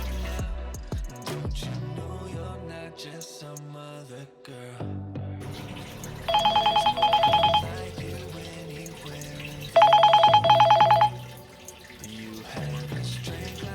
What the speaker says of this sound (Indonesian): kita pencet aja play sound ya, untuk mencontohkan ini handphone yang saya cari tadi itu akan berdering